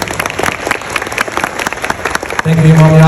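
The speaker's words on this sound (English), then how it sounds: "Round of applause." Wedding guests give a brief round of applause after a ceremony blessing, a loose scatter of hand claps near and far that quickly gives way to a steady tone and a voice at the end.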